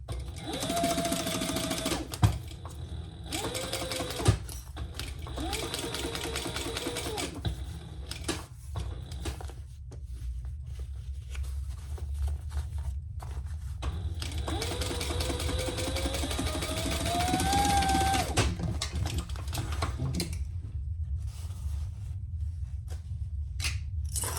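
A sewing machine stitches a seam on a fabric phone pouch in several separate runs of steady mechanical whirring, with brief pauses and a rising hum between them, close and clear, without any speech.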